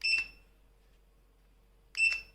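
A Maksone under-desk wooden electric treadmill gives two short, bright electronic beeps about two seconds apart as it powers on, loud and close against a quiet room.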